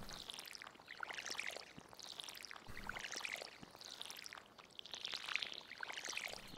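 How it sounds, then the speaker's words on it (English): A watering can in the farming video game Stardew Valley soaks the ground, giving faint, repeated splashy pouring sounds in about four short bursts with no talk over them. "oops, just watering the ground needlessly"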